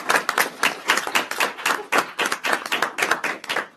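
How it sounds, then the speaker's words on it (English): A handful of people at a city council meeting clap for library staff, sharp individual hand claps close by, uneven and fairly sparse. "deserves a round of applause"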